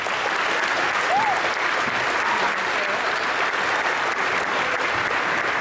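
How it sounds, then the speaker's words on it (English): Applause fills a middle school graduation ceremony, a steady, sustained clapping from a large audience at even loudness throughout. "Give them a round of applause."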